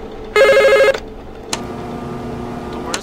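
A phone rings in the Five Nights at the Krusty Krab video game, a loud electronic ring burst lasting about half a second, followed by a brief click and quieter room tone.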